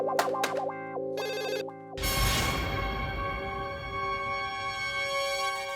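Mobile phone ringtone chiming in a Hindi comedy-serial scene: a few quick electronic note bursts, then a sustained, bright melodic ring that fills the rest, close and loud with no talk over it.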